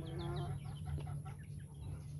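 Several chickens cluck and chatter close by in a steady flurry of short calls over a low background hum.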